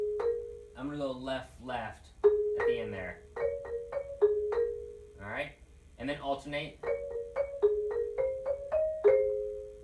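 Short ringing mallet notes on a tuned percussion instrument play in quick runs, alternating with a person speaking between the phrases.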